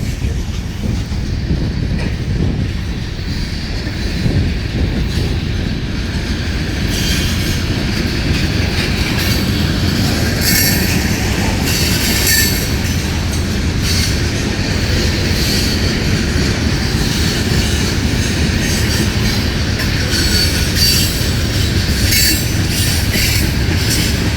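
A Norfolk Southern freight train with distributed-power (DPU) locomotives rolls past at Gaffney, South Carolina, a loud, close, continuous rumble of railcars with rhythmic wheel clatter and intermittent high wheel squeal throughout.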